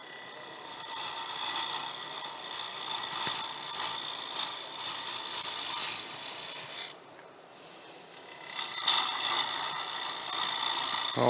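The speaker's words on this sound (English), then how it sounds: "So stop the lathe, move it closer in," A cutting tool rasps against spinning wood on a wood lathe in steady scraping passes, briefly going quiet mid-way before cutting resumes, close and alone with no talking.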